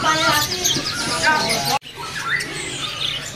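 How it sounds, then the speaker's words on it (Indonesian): An orange-headed thrush (anis merah) at a bird market gives chirps and squawky calls, a fairly close and busy mix of birdsong over background chatter and market noise, with a brief cut partway through. "Ini ada burung anis merah ya."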